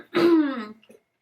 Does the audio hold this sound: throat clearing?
yes